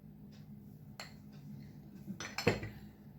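Pakora batter being mixed in a bowl with rice flour added, heard as faint scraping and a few clinks of a spoon against the bowl, quiet and close, with the sharpest knocks near the end.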